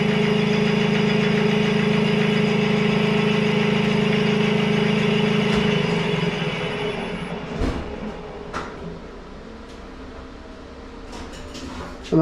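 A machine spins a Mini crankshaft up to 800 RPM with a steady, loud whirring drone and strong low hum. It then winds down into quieter mechanical ticks and clicks.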